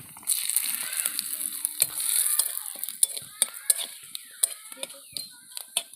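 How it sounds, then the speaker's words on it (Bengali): Nigella seeds, whole dried red chillies and two bay leaves drop into hot oil, setting off sharp, irregular crackles and pops over a faint hiss, close and quiet between bursts, while cooking fish with taro leaves. "তো ওই তেলের মধ্যে আমি দিয়ে দিচ্ছি কালো জিরে গোটা শুকনো লঙ্কা দুটো তেজপাতা"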